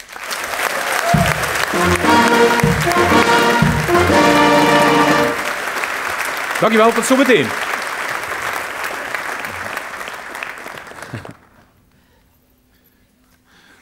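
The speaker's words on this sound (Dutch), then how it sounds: "En ik vind het heel goed als wij daar een stevig applaus voor geven" Applause from an audience at a Dutch festive gathering, broad and sustained with music-like tones and voices mixed in, then a brief spoken thanks before it cuts to near silence.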